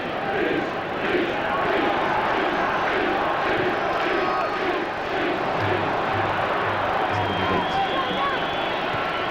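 Large football crowd at an England vs South Africa friendly in 1997 keeps up a loud, steady roar throughout, a dense, continuous wash of stadium noise with no distinct breaks.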